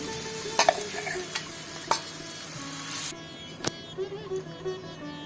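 Ground gongura chutney is tipped into a hot tempering and stirred, giving a close, loud sizzle that settles after a few seconds, with intermittent scrapes and clinks of the spoon against the pan.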